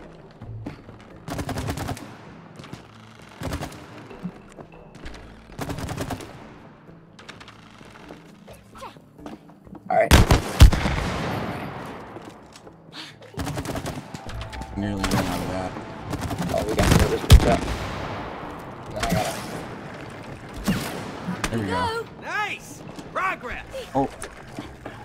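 Gunfire in the co-op video game It Takes Two: bursts of sharp shots, some in quick rapid runs, with louder volleys in the middle, under and between people's voices talking.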